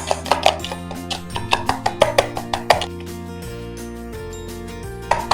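A whisk mashes bananas in a bowl for vegan waffle batter, making a string of about a dozen rhythmic close taps and squelches over soft background music, then a pause before a final few strokes.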